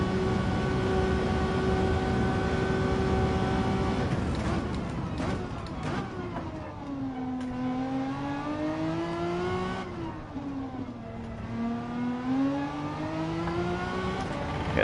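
A race car engine in the video game Gran Turismo 7 during a flying lap, a steady high whine that drops, then revs up and down through shifts and corners, loud and continuous.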